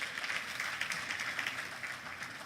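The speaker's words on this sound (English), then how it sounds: "can we give him a big round of applause?" Faint, distant applause from a conference audience at an economics society meeting, a soft, uneven patter of clapping that gradually thins.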